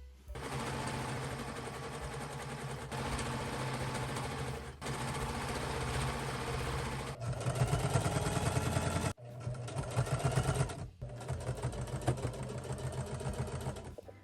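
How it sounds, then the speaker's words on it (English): A sewing machine runs in steady bursts while stitching the side seams of a quilted jacket from sleeve to hem, its rapid needle chatter close and loud, pausing briefly between runs with no talk. "now what we need to do is just sew the side seams all the way from the sleeve to the bottom"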